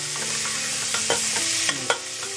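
Sliced onions frying golden with cumin and asafoetida for Indian moong masoor dal, a steady close sizzle with a few sharp scraping stirs of a spoon against the pan.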